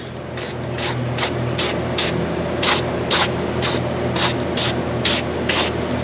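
Repeated short bursts of rust treatment spray from an aerosol can, about a dozen quick hisses in an uneven rhythm over a low background hum.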